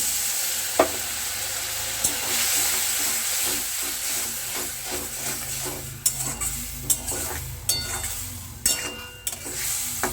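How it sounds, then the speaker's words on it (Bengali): Spice paste with chopped green chillies for an egg tarka is sautéed and stirred with a splash of water, a steady hissing sizzle topped by repeated spatula clacks against the pan, most frequent in the second half; no talking. "এবার আমি দেব অল্প পরিমাণে জল মশলাটা কষানোর জন্য।"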